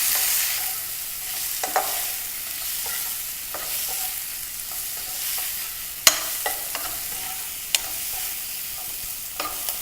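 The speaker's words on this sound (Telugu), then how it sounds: "ఇంకొంచెం ఫ్రై చేద్దాం." Chicken frying in a pan with chili powder, coriander powder and salt: a continuous close sizzle broken by several sharp spatula scrapes and clinks as it is stirred, with no voices.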